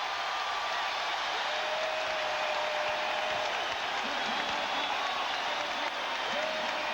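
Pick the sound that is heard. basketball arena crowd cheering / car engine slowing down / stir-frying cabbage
basketball arena crowd cheering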